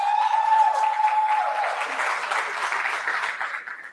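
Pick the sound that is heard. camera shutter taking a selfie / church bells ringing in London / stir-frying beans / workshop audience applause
workshop audience applause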